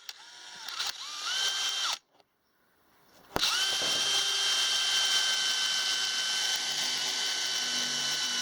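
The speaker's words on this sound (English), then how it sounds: "here's my my drill with a metal drill bit, and let's put a hole in the ceiling and in the roof" A power drill with a metal bit, boring through a 2004 Dodge Grand Caravan's ceiling and metal roof, whirs up, cuts out briefly, then restarts and grinds steadily at high speed, close and loud, with a rising whine as the bit bites.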